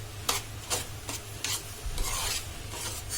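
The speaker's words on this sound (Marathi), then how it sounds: "आता हे चांगलं मिक्स करून घ्या" Mango pulp and sugar being stirred together in a bowl, giving a series of soft scraping, rubbing strokes at a fairly steady rhythm over a low background hum, with no talking.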